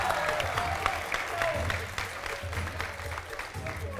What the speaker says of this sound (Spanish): El público me lo apoya con un aplauso